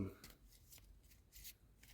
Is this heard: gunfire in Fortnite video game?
no